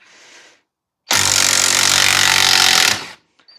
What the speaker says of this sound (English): I've then just put a 21mm socket on this impact wrench, and I'll just bang that nut out